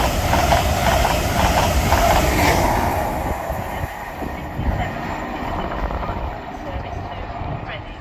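A GWR IET train passes through Hayes & Harlington station on the Great Western Main Line, a loud rushing roar with rhythmic wheel clatter that fades somewhat toward the end, with a person talking over it.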